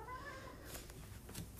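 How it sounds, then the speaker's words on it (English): A house cat meows a few times, faint and indoors, with a quiet gliding tone early on and softer mews afterward over low room noise. "That's my cat, Texas."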